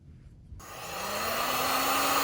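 A heat gun switches on to heat shrink tubing, a sudden rush of blowing air rising into a steady loud whir with a faintly climbing motor pitch.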